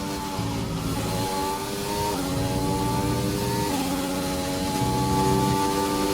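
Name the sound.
pink Mercedes F1 car engine driving a lap in F1 2020 video game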